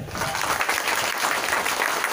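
Children at a school function clapping loudly together, a dense, continuous burst of applause lasting the whole short moment.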